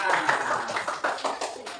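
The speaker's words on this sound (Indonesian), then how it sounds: "Beri tepuk tangan" Children clap together in a classroom, a loose patter of many small hands with uneven bursts, while voices carry on in the room over it.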